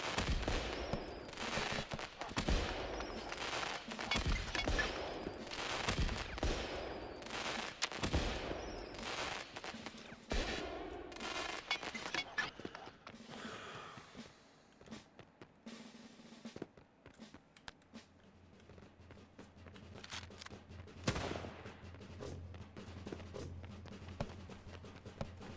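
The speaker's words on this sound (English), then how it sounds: "Oh, gunshots. Yep, definitely." Sharp toy gunshots crack out in irregular bursts over a noisy, chaotic video-game background, loud at first and thinning out to sporadic shots later.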